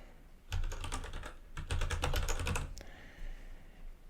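Quick bursts of typing on a computer keyboard, two close clattering runs of keystrokes with a brief pause between, no voices, as a name is entered during iPhone setup.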